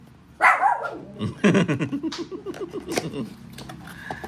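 A dog barks sharply, then lets out a rapid run of yips and barks, fairly close and loud, trailing off into quieter whines.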